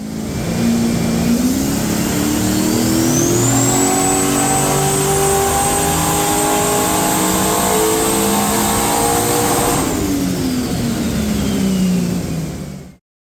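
Ford XG ute with a turbocharged engine revving hard on a dyno, one long loud pull climbing steadily in pitch with a turbo whistle rising above it, then easing off near the end, no voices present.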